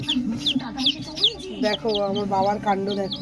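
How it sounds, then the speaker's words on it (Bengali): Small, colourful chicken chicks peep and cheep in quick high bursts close by, while a person talks over them. "দেখো কিরকম কুটু কালারফুল মুরগির বাচ্চা।"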